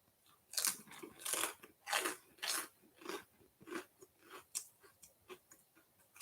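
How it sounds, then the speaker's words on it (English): Close, crisp crunches of someone chewing garlic toast, about a dozen rhythmic bites that fade slightly toward the end, with no talking. "Sorry if it's crunchy, but I'm eating garlic toast."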